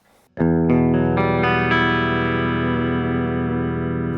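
A Kramer Volante electric guitar plays clean tones: a sharp attack followed by several quickly added notes stacking into a ringing, sustained chord that slowly decays, heavy with effects shimmer and no talking.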